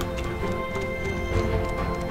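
Horse hooves clip-clopping at a steady trot while riding through a tunnel in the online role-playing game Black Desert Online, moderately loud over busy game music and ambience throughout.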